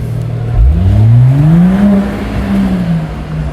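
A Mercedes-Benz CLS53 AMG fitted with an FI exhaust system pulls away, its engine note rising in a smooth deep rev that sweeps up and then settles. The sound is loud and close, with no voices.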